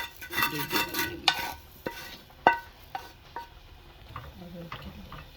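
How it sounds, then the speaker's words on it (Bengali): Dried chepa shutki fish is stirred and fried in a pan with onion, garlic and chilli for bhorta. Uneven metal scrapes and clinks sit over a soft sizzle, fairly quiet and close. "আমি শুটকি ভাজা"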